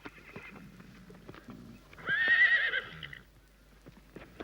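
Wild brumby horses in Australia, a loud close neigh rising over soft scattered hoof clip-clops and light rustling.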